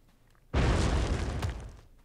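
A sudden loud burst from the video game Oceanhorn erupts into a thick, rumbling roar that holds for about a second and then fades, with no talking over it.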